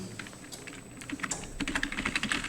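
A file name is typed on a computer keyboard: a quick run of close, crisp keystrokes that grows denser toward the end, with no voices.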